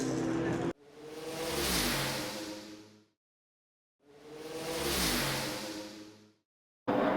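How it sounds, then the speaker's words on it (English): Historic race cars, Little Giants and Under 2 Litres classes at Zwartkops Raceway, accelerate past in two separate swelling and fading passes with engine roar and a clear gap between them. "Historic cars in full flight now as the Little Giants and Under 2 Litres make their way into turn 1"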